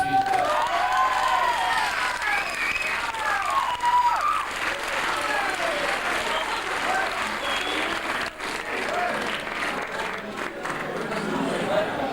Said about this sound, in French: Merci à notre jury qui est en place et que je voudrais qu'on applaudisse tout de suite.